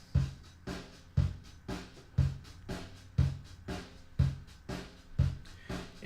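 Acoustic drum kit hammered at extreme volume, around 110 dB, with a steady beat of heavy kick and snare hits roughly every half second, each strike ringing out with bright cymbal wash, close and loud with no talking.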